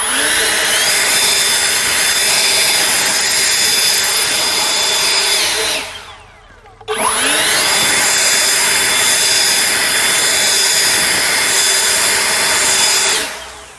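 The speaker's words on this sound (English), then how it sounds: "I'm gonna go ahead and switch it to turbo mode" An Ego 765CFM electric leaf blower runs loud and steady in turbo mode, a sustained high whine with airy rush that cuts out briefly, then starts again and holds before stopping near the end.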